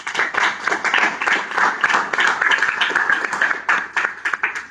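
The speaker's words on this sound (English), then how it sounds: "So I would like you people to welcome them with big round of applause." Audience applause for judges at a college debate competition, a dense, continuous burst of clapping from a crowd that holds steady throughout.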